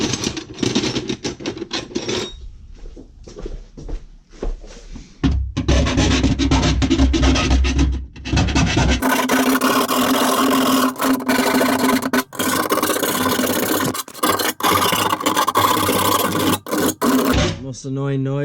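A hand file rasps back and forth, enlarging holes while fitting a trunk-mounted ice tank in a car, with short strokes at first and then long, continuous loud scraping up close, with brief pauses.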